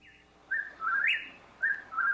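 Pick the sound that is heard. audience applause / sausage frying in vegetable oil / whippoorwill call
whippoorwill call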